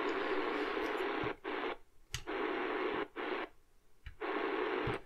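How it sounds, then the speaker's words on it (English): Shortwave static hiss from a Radio Shack DX-390 radio as it is tuned, loud broadband bursts broken by short silent gaps and a few sharp clicks. "Man, it's picking up every little static noise."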